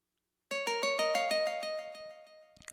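A short melody of plucked tones played through a delay effect, notes repeating in quick echoes that trail off and fade, starting after a brief silence.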